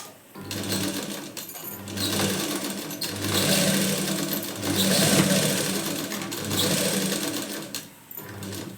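A sewing machine stitches blouse fabric in a loud, close, continuous mechanical whir that rises and falls in speed, with brief pauses between runs.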